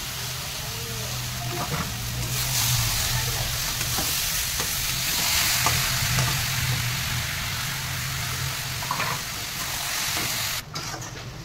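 Raw mango pieces for a sweet pickle, cooked down with sugar in a pan, give a steady close sizzle and bubbling, with a few faint stirring scrapes and no speech.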